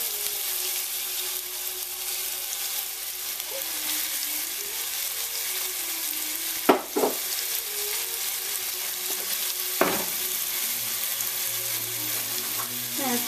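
Onion fries in a pan for Vietnamese banh cuon filling, a steady bright sizzle throughout, broken by a couple of sharp clinks from stirring and a brief low hum near the end.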